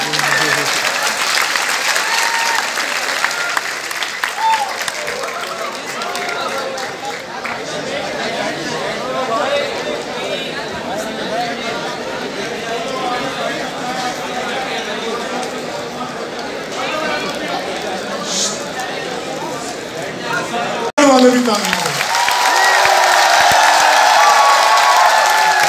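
Audience in an Urdu conference hall applauds steadily for a long stretch, a dense crowd clapping with some chatter mixed in, swelling louder near the end.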